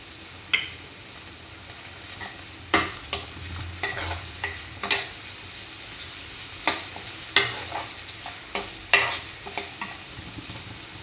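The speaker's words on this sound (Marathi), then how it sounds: "लसूण आणि जिरे अद्रकची पेस्ट टाकून घेते याचबरोबर मी यामध्ये शिरलेला बारीक टोमॅटोही टाकत आहे" Garlic, cumin and ginger paste fry with finely chopped tomato in a pan, giving a steady low sizzle broken by repeated sharp scrapes and clinks of stirring, close and alone.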